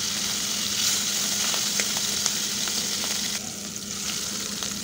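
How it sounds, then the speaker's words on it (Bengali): Hilsa fish rubbed with salt and turmeric frying in hot oil, giving a constant close sizzle with small pops and crackles throughout. "এবার নুন হলুদ মাখিয়ে রাখা ইলিশ মাছগুলো আমি ভেজে নিই"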